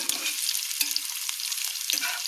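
Pangas fish pieces hiss and crackle steadily in hot oil, a dense close sizzle with faint stirring scrapes and no voices.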